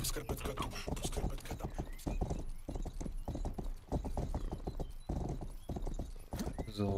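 Horse hooves clip-clop in a rhythmic, close, fast gallop in the video game Rustler, with neighs and whinnies breaking in now and then over game music.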